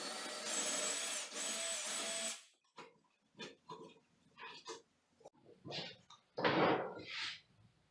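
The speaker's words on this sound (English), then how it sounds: "So now I'm taking this 3/8 bit and I'm actually going through the pilot." Power drill bores through a pilot hole with a 3/8 bit, a sustained whine that cuts off after about two seconds, followed by scattered clicks, scrapes and handling knocks.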